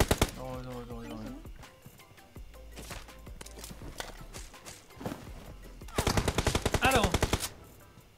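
Gunfire in the PUBG Mobile video game, with rapid bursts of automatic shots, loudest near the end, along with horse-like effects and a brief voice.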